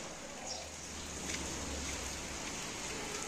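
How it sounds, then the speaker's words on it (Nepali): Steady monsoon rain falls outdoors in Nepal, a faint, even hiss of drops continuing throughout with no talk. "यता चाहिँ यस्तो झरी लागेछ साथीहरू, झरी लागेछ"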